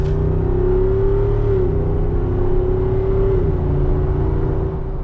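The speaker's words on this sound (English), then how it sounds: "I'm driving the 2026 Jeep Wrangler Moab" A 2026 Jeep Wrangler Moab 392 with its V8 engine cruising along, giving a steady, loud low drone with a humming tone that shifts pitch slightly, heard from inside with no talking.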